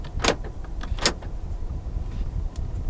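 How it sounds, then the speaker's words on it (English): Central locking on a 2016 Toyota Camry 2.0 G actuates with two sharp mechanical clunks about a second apart, close inside the cabin, followed by faint quieter clicks. "Central locking."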